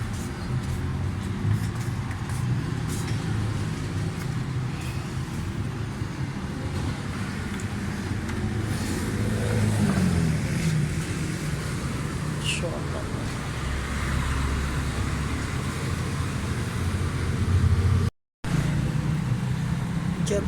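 The engine of a Suzuki Mehran (Maruti) pickup idles with a steady low rumble, close by; it has a misfire and has had its distributor timing adjusted. Voices are heard now and then over it.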